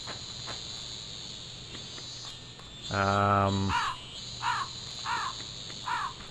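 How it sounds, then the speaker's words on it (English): Crows caw in short repeated calls, several spaced over a few seconds, while cicadas and insects buzz steadily beneath them in the Tenchu 2 stealth video game, with a low sustained tone between. "Besides the crows and the cicadas, of course."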